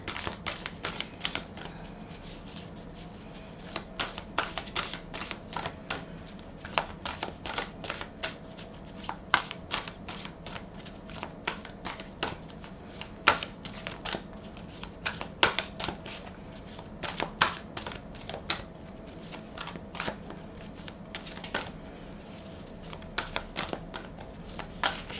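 Cards shuffled over and over for a card draw in a tarot-style reading, a long run of crisp riffling clicks in quick irregular bursts, close and steady with no talking.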